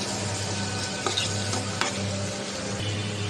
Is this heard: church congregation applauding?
no